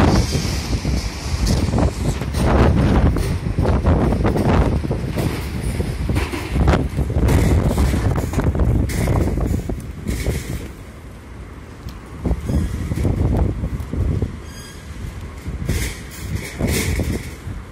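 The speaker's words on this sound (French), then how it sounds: "le vent souffle." Strong storm wind buffets and roars in loud gusts, rising and easing unevenly with heavy rumbling and rattling throughout.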